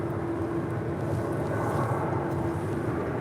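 An airliner takes off from runway 25 right at LAX, a steady, broad engine roar with a sustained tonal hum, constant in level over a few seconds.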